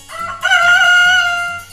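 A rooster crows once, loud and close, in a children's ABC song illustrating a hen, its harmonic cock-a-doodle-doo rising over a soft repeating musical backing with no talking.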